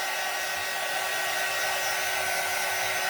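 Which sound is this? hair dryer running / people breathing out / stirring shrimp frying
hair dryer running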